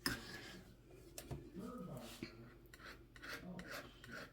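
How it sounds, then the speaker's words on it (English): Rough, raspy scraping of white paint across a canvas during a beginner painting session, repeated short strokes close up at low volume. "I'm just scraping in that white to give it some color and texture"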